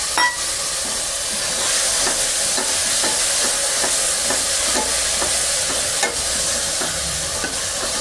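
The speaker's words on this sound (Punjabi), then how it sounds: "ਹੁਣ ਆਪਾਂ ਇਹ ਜੀ ਟਮਾਟਰ ਹਰੀ ਮਿਰਚ ਤੇ ਅਦਰਕ ਦਾ ਪੇਸਟ ਪਾ ਦੇਵਾਂਗੇ" Tomato, green chili and ginger paste frying with browned onions for a mah chole dal tadka, a steady close sizzle with faint stirring scrapes throughout and no talk.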